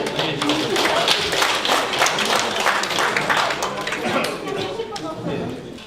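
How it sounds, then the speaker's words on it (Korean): Participants at a neighborhood safety council workshop clap together in a busy, rattling burst of applause that holds steady and tapers slightly toward the end. "자, 박수로"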